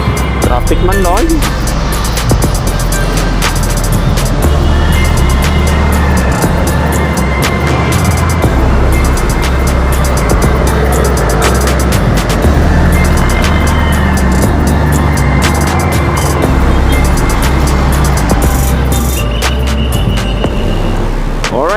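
A car rolls through heavy Philippine traffic with a steady, close engine and road rumble and hum of surrounding vehicles, while people inside talk over it.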